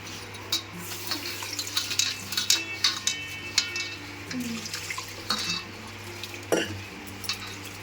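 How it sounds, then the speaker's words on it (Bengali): Gobindobhog rice is rinsed by hand in water in a pot, with sloshing, swishing stirs and small clinks coming in uneven bursts, close by. "চালটা এবার ধুয়ে নেবো"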